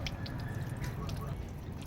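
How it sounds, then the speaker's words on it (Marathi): Water poured onto a Shiva lingam during a home worship ritual, heard as a faint, close trickle with soft drips and splashes over a quiet room background. "तर आता बघा मी शिवलिंगवर पाणी घालत आहे"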